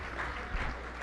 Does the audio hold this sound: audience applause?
yes